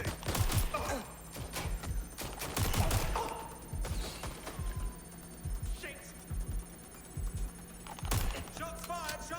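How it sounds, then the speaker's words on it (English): Gunfire during an attack on London in Watch Dogs Legion, with sharp shots in scattered bursts mixed with other game noises and a voice speaking. "Shots fired! Shots fired!"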